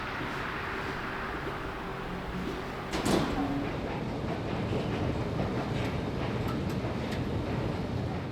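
Vienna U-Bahn U2 station in the early morning, heard as a steady, fairly loud rumble of station ambience with a brief clatter or door-like thump near the middle, no talking.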